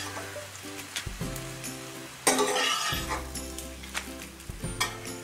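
A sweet dosa with roasting coconut sizzles on a hot pan, a steady frying hiss broken by a short scraping burst and a few light clinks of a spatula, close and clear with no talk.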